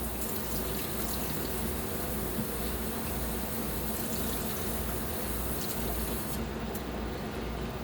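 Steady stream of tap water running over celery stalks in a sink, a loud continuous rushing splash that holds evenly throughout with no talking.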